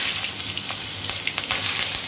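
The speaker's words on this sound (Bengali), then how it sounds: "আলুটাকে ভেজে নেব, সুন্দর লাল করে ভেজে নেব আলুটা" A single potato fries in hot oil for a fish egg malai curry, giving a loud, dense, continuous sizzle with small crackles and pops throughout, heard up close with no talking.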